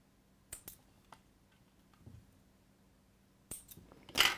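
Scissors snip thread while tassel earrings are being made, giving a few quick, crisp clicks close up in an otherwise quiet room, with a sharper cluster of snips at the end.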